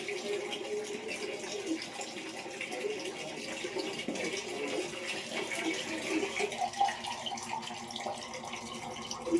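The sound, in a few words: water running while washing with soap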